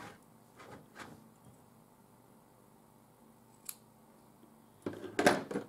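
Scissors trimming the cotton wick on an Apex RDA by Timesvape: a few quiet, scattered snips, then a closer, louder burst of cutting near the end, with no talking.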